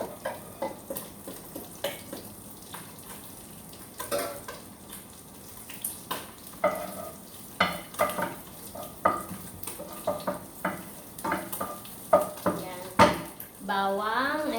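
Garlic sautéing in a pan for Filipino pancit guisado, with onion going in next: close, repeated spatula scrapes and metallic clinks over a low, steady sizzle throughout.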